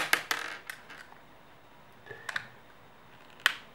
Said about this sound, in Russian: Все-таки откручиваются эти винты.